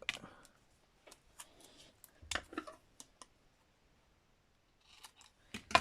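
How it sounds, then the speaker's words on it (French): Scissors snip paper in an art journal, a scatter of sharp, separate clicks and cuts, quiet and close with pauses between them and no voice. "Et je vais prendre un ciseau."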